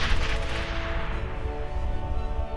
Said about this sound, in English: Gunshots and explosions pack a real punch